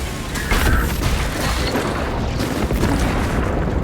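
Melta bomb going off in the Warhammer 40K Space Marine 2 video game, a heavy booming roar that stays loud and dense for several seconds, mixed with mechanical clatter.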